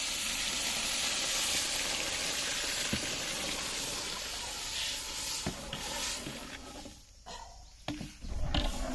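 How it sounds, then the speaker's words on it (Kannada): Water poured into a pan of frying vegetable pulao masala, producing a steady hiss and sizzle that fills most of the clip before thinning out with a few clanks near the end. "ಒಂದು ಸ್ವಲ್ಪ ನೀರು ಹಾಕ್ಕೋಬೇಕು ಫ್ರೈ ಮಾಡ್ಕೊಂಡಿದ್ದಾದ್ಮೇಲೆ"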